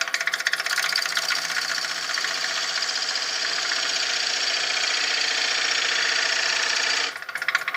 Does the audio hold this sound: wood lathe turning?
yes